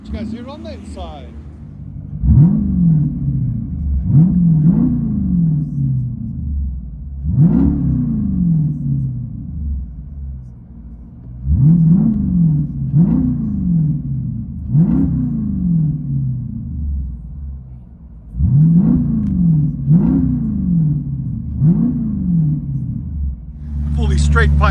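From inside the cabin, a 2017 Jeep SRT Grand Cherokee 6.4L HEMI V8 on straight pipes with an X-pipe throbs at a heavy idle and is blipped in clustered revs, muffled, booming and deep throughout.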